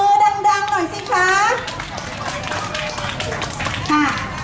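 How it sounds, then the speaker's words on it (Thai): At a Songkran festival contest on stage, an audience claps briefly near the start, and the clapping is mixed with loud children's chatter and someone talking over the crowd. "ถ้าพร้อมแล้ว ปรบมือดังๆหน่อยสิคะ"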